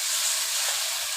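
Hot oil sizzling with spices in a pan as fried potatoes go in, a steady close hiss lasting about a second with no voices.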